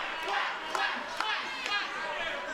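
Arena wrestling crowd quacking in unison for the Ugly Ducklings, a dense wash of voices with a few sharp louder shouts poking through over a couple of seconds.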